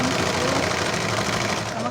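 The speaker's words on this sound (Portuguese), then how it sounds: "Aqui, gente, estou finalizando a costura" A sewing machine stitching a patchwork curtain whirs loudly and steadily up close, a continuous rapid mechanical drone throughout the short moment with a voice faintly mixed in.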